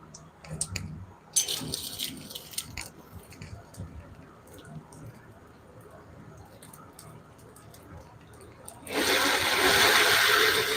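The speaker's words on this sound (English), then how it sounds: "Oh, now it's spraying water everywhere." Water sprays from a water-cooled belt machine running with bad tracking. Quiet clatter and clicks come first, then a loud, sustained rushing spray takes over for the last couple of seconds.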